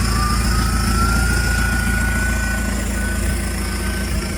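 A BMW E46 engine idles with its exhaust disconnected, giving a loud, steady, raw low rumble with a faint rising whine over it. The sound holds constant for the whole stretch, with no voices.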